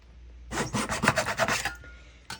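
A handsaw with a waxed blade cuts through a wooden floorboard in a short run of quick, rasping back-and-forth strokes, close and fairly loud, followed by a brief pause and one final scrape.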